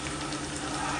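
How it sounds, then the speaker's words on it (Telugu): Steady, dense sizzle of a prawn curry frying in a pan as chopped capsicum goes in, loud and close, with no pause over the short moment. "క్యాప్సికమ్ వేస్తున్నాను"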